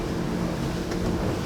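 An Aiata Wayfinder 38 Suntop motorboat runs at wide open throttle down swell at about 35 knots, its engine a dense, steady roar mixed with wind and rushing water, close and unbroken.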